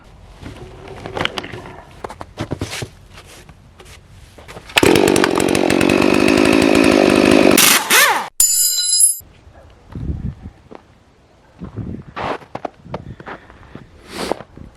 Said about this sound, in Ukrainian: ось такої цікавої бензопили